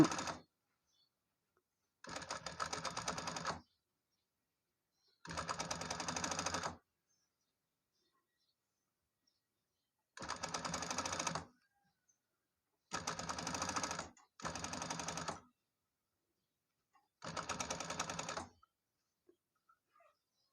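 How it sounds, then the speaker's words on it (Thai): A sewing machine stitches the back neck binding of a T-shirt in six separate loud bursts of fast mechanical chatter, each one to two seconds long, with silence between them and no talking. "เย็บไปเลย เย็บให้เขาตกร่อง"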